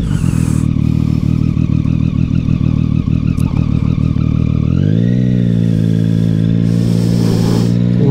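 Motorcycle engine droning steadily at speed while the rider tips into a turn, loud and close. Pitch drops and then settles as the bike leans over, with faint wind rushing behind the engine.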